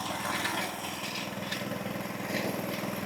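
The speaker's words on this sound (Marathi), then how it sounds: "मी फक्त रेस दिला की हे मशीन चालेल आणि फवारणी होईल" A battery-powered crop spraying machine runs in a farm field, giving a steady, loud mechanical whir and hum that holds evenly throughout without pause.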